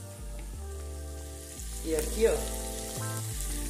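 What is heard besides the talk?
calabresa sausage slices frying in a pan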